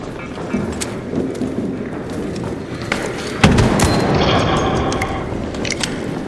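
Gunfire in the video game ARC Raiders, with a few sharp distant shots and one louder nearby boom over a dense rumbling game backdrop.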